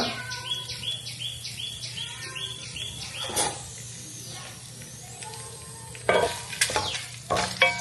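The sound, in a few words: frying tempering of peanuts, chillies and curry leaves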